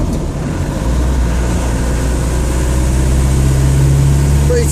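Land Rover Defender on a separate chassis, its engine droning loud and steady from inside the cramped cab, a constant low rumble with no change in pace throughout.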